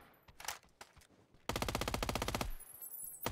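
Rapid machine gun fire in a solo-versus-squads battle royale video game: a sustained, loud burst of about a dozen evenly spaced shots, preceded by a few scattered single shots and trailing off into quieter game ambience.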